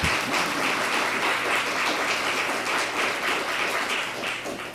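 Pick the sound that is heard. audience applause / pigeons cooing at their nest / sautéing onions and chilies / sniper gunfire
audience applause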